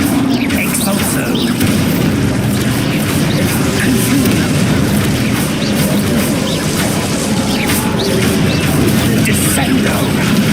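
Spell explosions from the Expulso curse in Hogwarts Legacy, a dense, continuous barrage of booming blasts and crackling bursts with no pauses, loud and close, mixed with other spell effects.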